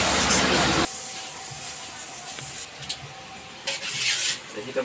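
Seafood sautéing in butter in a pan, with corn added. A loud burst of sizzling opens the sound, then it settles into a quieter, steady frying hiss.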